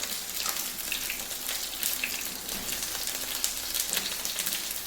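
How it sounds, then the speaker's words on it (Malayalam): Marinated fish frying in hot oil with curry leaves, a continuous crackling sizzle with scattered pops, close and steady throughout. "ഇനി മീൻ പരട്ടി വെച്ചിട്ടുണ്ട് ഞാൻ ഇത് നമുക്കങ്ങ് ഇട്ട് കൊടുക്കാം എണ്ണ ചൂടായിട്ടുണ്ട്"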